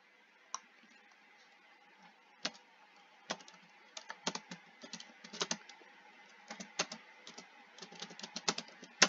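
Keys clack on a computer keyboard in quick, uneven bursts, starting sparse and growing busier, close and fairly quiet against a near-silent room.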